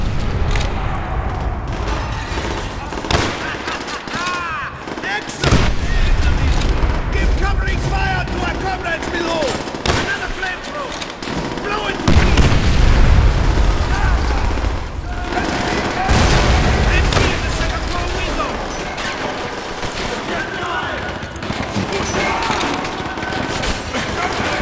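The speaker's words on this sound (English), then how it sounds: "Exploding the fuel..." Gunfire and fuel explosions from flamethrowers boom and crackle in a Call of Duty: World at War battle, with repeated loud bursts and rattling shots mixed with shouted voices.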